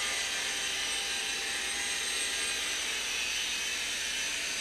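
A Sky Rover Navigator toy drone flies forward at a steady clip, its rotors giving a continuous high-pitched whine that holds level and fairly loud throughout with no talking.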